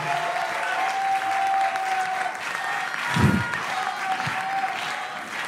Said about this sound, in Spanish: Más fuerte el aplauso para Camilo, para Abel, Sicabo, Plumas.